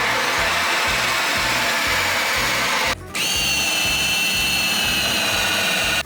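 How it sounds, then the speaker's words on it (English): A power drill bores a waste pipe hole through the floor of a classic Bedford CF van, running loud and steady, briefly cutting out before spinning up again at a higher whine. "I'm going to drill the hole out from the base of the shower all the way through the van."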